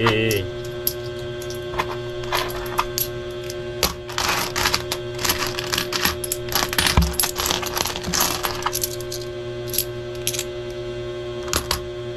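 Coins from a piggy bank clinking and rattling as they are poured out and handled, a steady run of close metallic jingles and drops with a low hum underneath.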